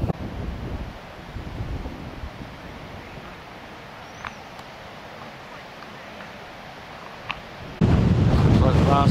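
Wind blowing outdoors at a pheasant and partridge shoot: low, gusty microphone rumble throughout, a few faint distant sounds, and a louder buffeting gust at the end.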